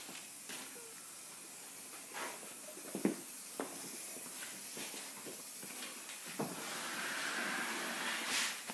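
A spray can sprays paint in a long, steady hiss, with brief bursts and faint clicks over the continuous spray during live painting.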